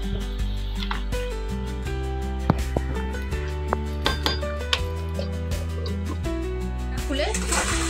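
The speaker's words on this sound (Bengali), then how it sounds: "এবার একটু নেড়ে ঢেকে দেব" Beef curry gets stirred in a pot, metal spoon clinking and scraping against the sides in scattered taps, then a lid goes on with a clatter near the end, under a steady low hum and quiet background.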